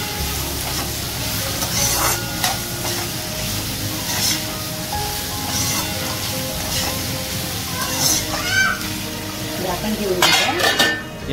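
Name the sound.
tempering frying in oil for dry manchurian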